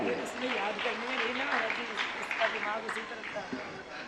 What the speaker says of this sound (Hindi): इनके सम्मान में जोरदार तालियां।